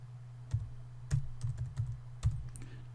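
A computer keyboard being typed on as a file name is entered, with several quiet, irregular key clicks heard close up over a faint low hum.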